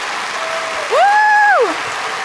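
A conference audience at the Ignition Community Conference 2023 main keynote gives a steady round of applause, a broad hiss of clapping with a brief rising and falling tone sounding over it partway through.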